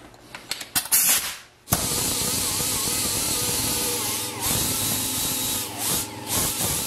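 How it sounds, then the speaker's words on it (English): A small die grinder fitted with an 80 grit disc blends a weld on the inner wheel arch of a Mercedes W109/W108, running as a steady, loud high-pitched whine with slight pitch wobbles after a few opening clicks and bumps. "Then I come back with my little die grinder here with an 80 grit,"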